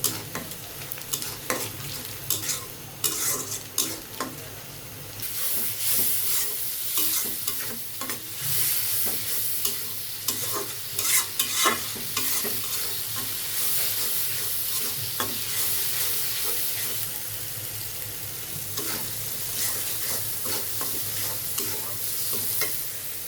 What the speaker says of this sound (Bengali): ডিমটা ভুনা করবো এটা ডিম ভাজার তেলটাই এখানে দিয়ে দিচ্ছি